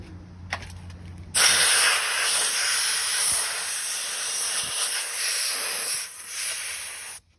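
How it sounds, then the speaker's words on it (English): Compressed air blasting debris out of a Hobart A200/A120 20- and 12-quart mixer during maintenance: a loud, sustained hiss that starts suddenly, holds for several seconds with slight wavering, then cuts off. "Then we will use some compressed air."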